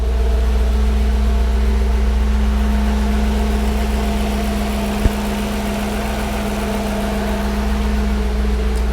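An Audi C5 RS6 engine idles steadily while it warms up after a cold start. The low hum is constant and close, with a single faint click partway through.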